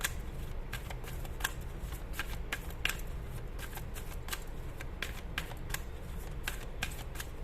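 Tarot cards being shuffled by hand give a steady run of crisp, riffling flicks and soft slaps, close and even in rhythm, with no talking.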